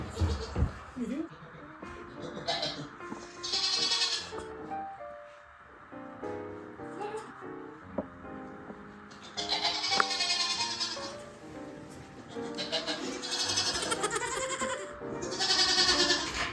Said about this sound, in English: Goats are crafty.